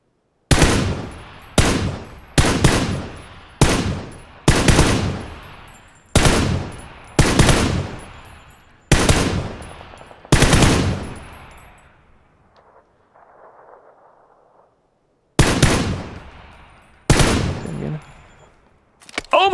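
Loud single gunshots fire one after another in PUBG, each with a sharp crack and fading tail, followed by a quieter pause with faint rustling before two more shots ring out.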